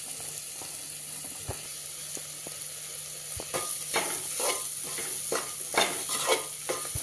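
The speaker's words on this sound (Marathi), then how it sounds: "चिरलेल्या दोडक्याच्या फोडी घालूया" Chopped ridge gourd pieces stirred in a hot pan with oil, a steady sizzle broken by sharp spatula scrapes and clinks that grow busier and louder toward the end.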